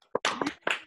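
Members of an online audience at an alumni reading unmute and clap, producing a brief burst of a few uneven, close claps with compressed, slightly distorted call-quality sound.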